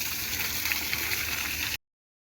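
Irrigation water flows steadily through a farm channel beside papaya and atis trees, a continuous close rushing hiss that stops abruptly.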